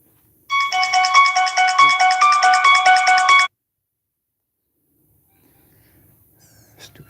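A mobile phone ringtone plays outdoors at Circle B Bar Reserve, a loud, rapid warbling chime that repeats for about three seconds and then stops abruptly, followed by quiet outdoor ambience and faint breathing.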